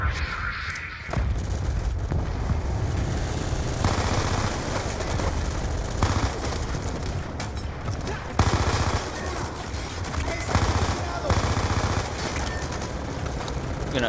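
Sustained gunfire in the Call of Duty Black Ops 2 video game: dense automatic bursts with heavy booms and explosions, loud and continuous throughout.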